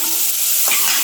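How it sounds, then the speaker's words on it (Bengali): Pointed gourd pieces frying in fairly deep hot oil, giving a steady close sizzle with a brief stirring scrape partway through. "এইভাবে পটলটা ভাজলে ভালো লাগে।"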